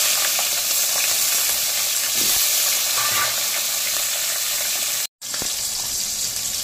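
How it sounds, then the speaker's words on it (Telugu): Cinnamon, cloves, cumin, green chilies and tomatoes frying in hot oil for a fish curry, a loud continuous sizzle with stirring scrapes near the pan, briefly cut to silence toward the end. "ఆయిల్ హీట్ అయ్యాక చెక్క లవంగా జీలకర్ర కొంచెం వేసుకుందాం. పచ్చిమిర్చి టమాటాలు"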